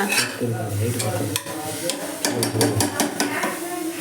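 Grated carrot for halwa sautés in a pan to a loud, busy sizzle with repeated stirring scrapes, and a voice is heard underneath.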